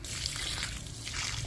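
Water trickles and splashes steadily onto the soil around a papaya plant in a vegetable garden, a soft continuous pour heard up close.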